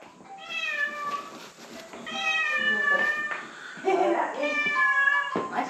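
A house cat meows up close during a family visit to a home in the Philippines, giving several drawn-out, high meows one after another, with faint background voices.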